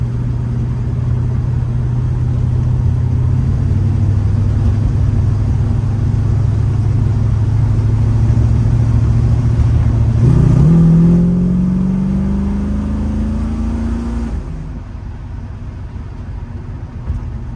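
The V8 engine of a 1967 Ford Mustang S-code coupe idles with a deep, throaty rumble, then revs up, rising in pitch for several seconds before dropping back to a low idle.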